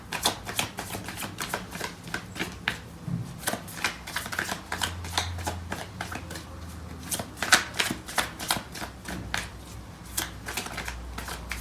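A deck of tarot cards being shuffled: rapid crisp riffles and flicks repeated in bursts, close and clear, with soft low thumps between them.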